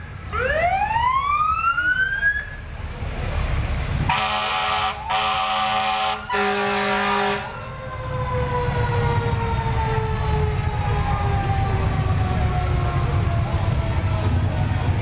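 Fire engine sirens from Stranger Township and Kickapoo Township fire departments in a Veterans Day parade, loud wailing sweeps with a blaring horn blast in the middle and a long falling wail, over outdoor crowd noise.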